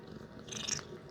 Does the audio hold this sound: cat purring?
yes